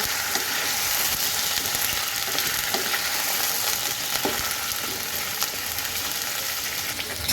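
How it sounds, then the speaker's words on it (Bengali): Pointed gourd and cauliflower fry in a pan with ginger paste, giving a steady, close hiss of sizzling with a few light stirring scrapes throughout, no voices. "দিয়ে দিয়েছি পটল আর ফুলকপি এটাকে সুন্দর মতন ভাজবো"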